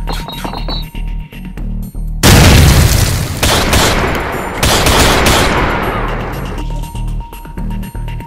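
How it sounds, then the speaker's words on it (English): A loud grenade blast in a live-action GoldenEye 007 recreation bursts out after quiet ticking, a broad roaring boom that holds for several seconds with rumbling debris and gunfire-like crackle before fading back to the low background hum. "Grenade!"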